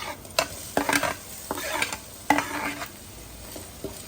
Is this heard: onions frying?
yes